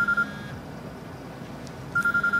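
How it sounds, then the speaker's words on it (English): A phone rings in the video game Quantum Break, with two short electronic ring bursts separated by a quiet gap, clear over a low room hum. "Do you have a phone?"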